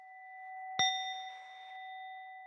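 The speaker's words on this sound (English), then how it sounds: "hit my little bell here" A small bell is struck once with a stick, giving a single clear, bright ding that rings on with a sustained, steady tone and fades slowly in a quiet room.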